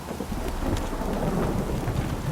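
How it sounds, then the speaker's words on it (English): Steady heavy downpour in The Witcher 3: Wild Hunt pours without a break, a dense wash of broadband hiss with low rumbling underneath, with no voices. "This downpour's a bastard,"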